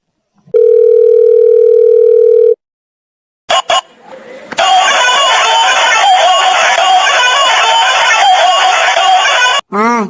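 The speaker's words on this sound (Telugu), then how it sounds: "అయితే బన్నీ గడికి ఫోన్ చేద్దాం" A telephone ringback tone sounds once as a steady tone while a call is placed in an animated Telugu comedy, then a rooster crowing and loud chirping ambience fill the rest.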